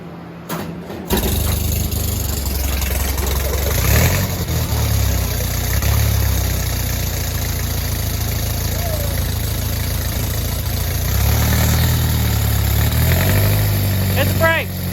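A car engine cranks briefly and then settles into a steady, rumbling idle that carries on close by at a constant level, with people talking faintly in the background.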